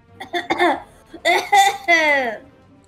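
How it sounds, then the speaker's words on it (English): A few forceful, harsh coughs come in short bursts, close and loud, followed by a longer strained, voiced cough. "She's coughing forcefully."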